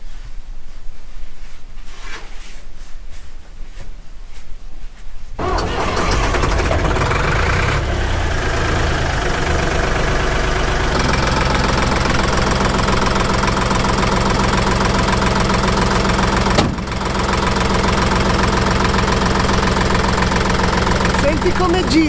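A restored SAME Minitauro 60 DT tractor's diesel engine idles loudly and steadily close by, with a knocking, chugging rumble after a quieter opening.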